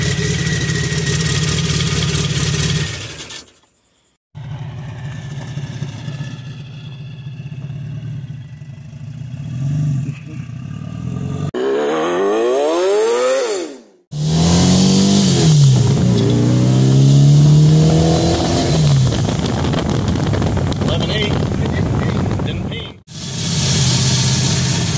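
A Volkswagen Beetle engine, recently revived after a stuck carburetor needle and seat and with a scraping pulley, runs loudly up close, idling and revving in rising and falling surges, with a brief cutout and people talking over it.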